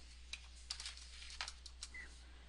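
Computer keyboard typing a check amount: a few faint, sparse keystroke clicks at an unhurried pace over a low steady hum in a quiet room.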